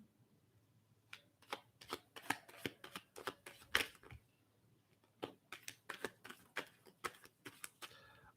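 Playing cards being shuffled by hand in quick riffling bursts, close and crisp, in two runs separated by a short pause in a quiet room.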